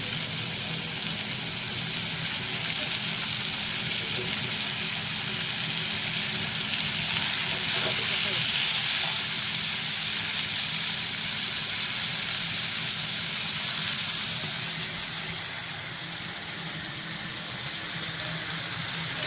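Cabbage and mixed vegetables stir-frying on a high flame for Schezwan and Hakka noodles, a steady loud sizzle and hiss that continues without break; no one speaks.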